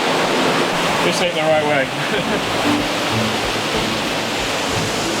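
A river in Lombok, Indonesia, flowing with a constant broad rushing wash close by, as someone speaks briefly over it.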